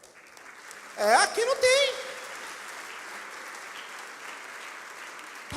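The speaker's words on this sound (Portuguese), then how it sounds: "Aplauda Jesus por isso, glória a Deus, irmão" Church congregation applauding during a sermon, a steady wash of clapping after a short burst of a man's spoken words, continuing at moderate level to the end.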